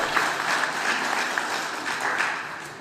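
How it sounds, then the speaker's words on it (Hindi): Audience applause at a Rajasthani literary award ceremony, a steady broad clatter of many hands clapping close by throughout, with no voices over it. "रामजी लाल जी घोड़ेला ने एक बार जोरदार तालियां सागे बधाई"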